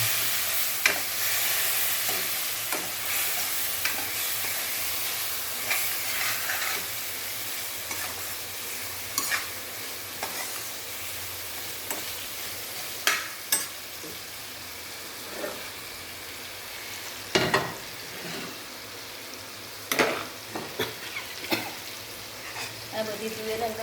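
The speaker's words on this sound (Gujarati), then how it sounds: "હવે આ બાફેલી તુવેર મિક્સ કરવાના." Boiled pigeon peas (tuvar) stirred into a fried spice tempering, giving a continuous frying sizzle with repeated scraping and clattering of a spoon in the pot, close by for most of the time.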